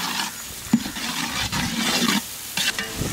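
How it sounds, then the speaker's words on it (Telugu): Ginger paste fries in a pan while being stirred, a steady sizzle broken by several scraping stirs and clinks of the spoon against the pan, with no talking. "ఈ అల్లం పేస్ట్ పచ్చివాసన పోయే వరకు వేయించుకోవాలి."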